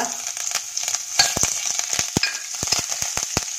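Asafoetida, cumin, ginger paste, garlic paste and curry leaves frying in hot oil in a pan, a close, steady sizzle broken by sharp crackles and spits.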